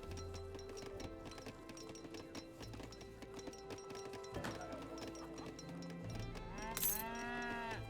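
Cattle lowing inside an Age of Empires 3 match, a German vs Hausa game with cattle grazing in a field, under steady game ambience with clip-clop hoof sounds and a busy mix of other in-game effects.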